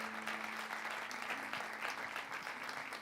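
A church congregation applauds during a sermon, dense steady clapping filling the room at moderate level with faint crowd murmur and a low sustained tone underneath.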